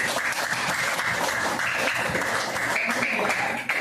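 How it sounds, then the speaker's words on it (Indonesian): A classroom of children bursts into sustained, dense applause, an even wash of many small hands clapping together that carries on for several seconds before breaking off. "Terima kasih. Tepuk tangan."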